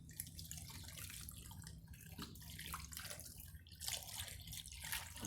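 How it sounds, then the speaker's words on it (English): Water is poured onto a worm grit mix, a soft, fairly faint splashing and trickling stream that runs continuously with small drips and gurgles. "And then pour a little water."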